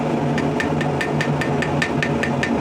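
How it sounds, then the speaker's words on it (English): A ball peen hammer beats rhythmically on hot steel while a rivet header tool is forged from scrap steel, roughly a dozen sharp ringing blows evenly spaced about five per second over a steady humming background. "Then we'll just take a ball peen"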